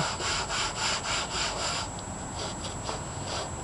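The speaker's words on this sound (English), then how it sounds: "If I got any little hard spots, just scrub a little bit more and work it out." A 55 gallon drum is scrubbed clean by hand, giving close, soft rubbing strokes in a quick rhythm that grows more irregular toward the end, with no talking.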